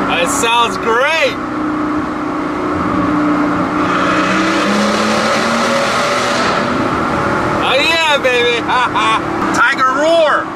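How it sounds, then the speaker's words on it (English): A Mercedes S65 AMG engine roars steadily and loudly for about ten seconds with a rising, revving growl near the middle, while someone talks over it at the start and end. "I think this is the only car in the world that sounds like an angry tiger."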